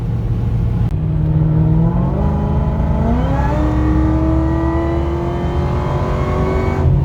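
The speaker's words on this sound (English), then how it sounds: "I'm gonna go do a full pull. I'll probably do like 40 to 100, or maybe like 40 to 130." A supercharged LSA V8 in a Chevy SS with methanol injection pulls hard at full throttle, its loud close engine note and supercharger whine climbing steadily in pitch through a long acceleration run without a break.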